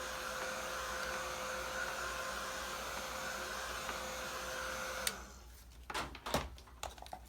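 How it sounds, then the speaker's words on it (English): A craft heat tool drying black ink roars in a steady, close drone for about five seconds, then cuts off, leaving a few soft clicks and handling sounds. "run my heat tool again just to dry that black"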